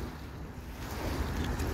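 Water waves on Araruama lagoon, a saltwater laguna linked to the sea, wash steadily close by, mixed with heavy wind rumble against the microphone, with no talking.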